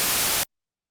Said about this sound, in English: So now that you've got some white noise loaded in, it should sound like this.